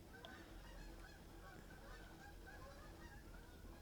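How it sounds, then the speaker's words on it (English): Geese honk outside a window, a steady run of short calls over a constant low background hum, fairly faint and without any talking. "geese honking outside my window"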